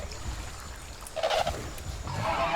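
A young Utahraptor call from The Isle game, a short raspy squawk followed by a second rising cry, fairly faint over a quiet background.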